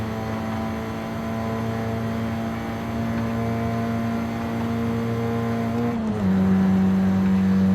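A 2010 Renault Clio RS in Forza Horizon 5 cruising on a highway, its engine giving a steady humming drone that holds one pitch, then drops briefly at a gear change and settles slightly louder.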